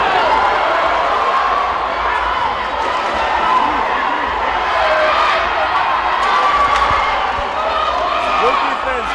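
Crowd noise at an indoor volleyball match, a sustained loud roar of spectators with scattered cheers under a commentator talking.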